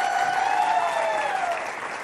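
A studio audience on a Pakistani morning TV show claps loudly in a dense burst of applause, fading slightly toward the end.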